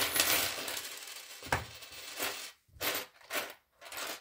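Small metal gears and little keys tipped out onto a tray, giving a few separate clattering bursts with brief pauses between them, close and fairly loud with no talking.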